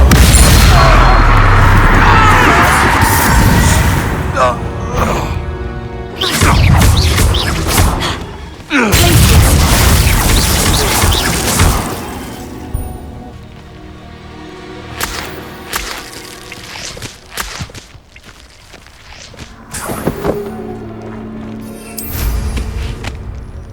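The Crucio spell is cast in the video game Hogwarts Legacy, bringing loud crackling whip-like bursts and booming impacts up front that fade to quieter game sounds, with some voices in between.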